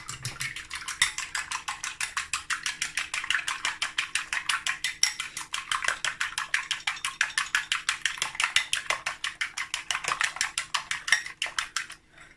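An egg is whisked for homemade sausage rolls, making rapid, evenly paced clicking of a utensil against a bowl that continues without a break, close and fairly quiet.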